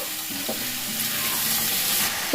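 Spices for vegetarian mushroom pulao stirred in a hot pan, a continuous bright sizzle with a few soft scraping strokes near the start, close and fairly loud.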